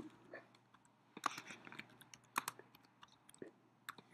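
Someone types on a computer keyboard: quiet, irregular bursts of light key clicks with a couple of sharper taps, close by in a calm room with no speech.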